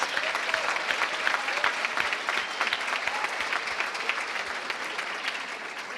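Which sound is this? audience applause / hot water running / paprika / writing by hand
audience applause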